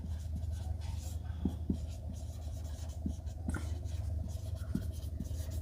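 A fraction being written out by hand, giving soft, close scratching strokes with a few sharper taps spread across the stretch over a constant low background hum.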